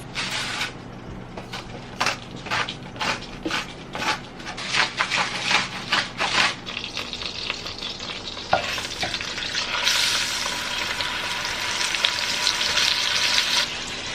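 Seasoned pork roast browning in a pot, sizzling steadily with repeated stirring and scraping knocks in the first half, then a louder, more even sizzle toward the end; no talking.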